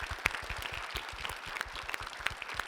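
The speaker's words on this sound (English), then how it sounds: "Let's give him a round of applause coming out." Audience applause welcoming the judge at an English-skills team competition, a moderately quiet, busy patter of many clapping hands with scattered sharper claps throughout.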